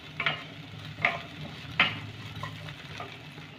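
Sugar is stirred into bitter gourd frying in a pan: three sharp scraping strokes of a spoon come over a low, steady sizzle, close up and with no talk.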